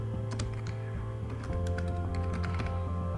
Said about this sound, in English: I will just type whatever you do